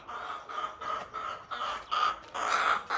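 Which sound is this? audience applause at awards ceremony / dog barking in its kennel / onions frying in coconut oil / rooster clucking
rooster clucking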